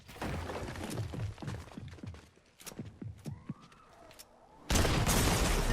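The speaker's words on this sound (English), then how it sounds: "I just got one pumped by a gray sentinel pump shotgun" Rapid gunfire bursts and blasts from a Fortnite match, including a pump shotgun, crack loudly in a dense cluster, followed by a whooshing effect and then a loud sustained noise burst at the end.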